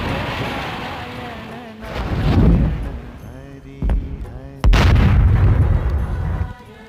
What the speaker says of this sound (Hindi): दूर से कहीं विस्फोट की आवाजें आ रही हैं। शायद ये ऊपर ग्लेशियर टूट रहे हैं।